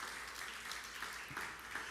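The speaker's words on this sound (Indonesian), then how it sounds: "Beri tepuk tangan yang meriah bagi Tuhan Yesus." A church congregation applauds during a sermon, a faint, distant wash of many hands clapping that stays steady for the whole stretch, with no voice over it.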